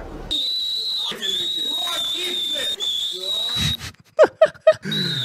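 A thin, high-pitched whistling squeal runs almost continuously over a livestream, steady and loud, briefly broken near the end by a few sharp clicks and a short pause before the tone resumes.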